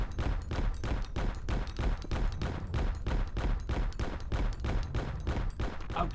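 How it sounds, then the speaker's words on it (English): Gunshots fired at training dummies in the mobile game Payback 2, a rapid, steady stream of close, punchy shots that continues without pause for several seconds. "now shoot the dummies."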